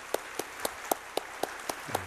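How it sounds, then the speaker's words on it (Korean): Slow, evenly spaced claps, about eight in two seconds, from a congregation welcoming guests at a Sunday service in a Korean church; moderately quiet and a little distant, with no talking. "우리 뜨거운 박수로 환영하겠습니다."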